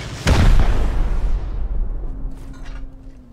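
A single heavy rocket explosion strikes a base foundation in Rust, a close, loud boom that rolls off into a fading rumble, with a faint tone lingering near the end.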